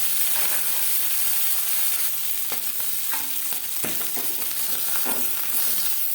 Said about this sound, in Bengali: জ্যান্ত মাছ আমি এখানে হালকা করে ভেজে নিচ্ছি